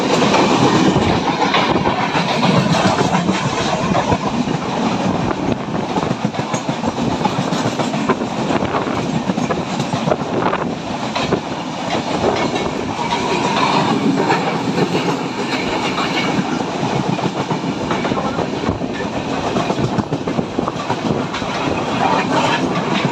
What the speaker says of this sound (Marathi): समोरून ट्रेन येते एकदम भारी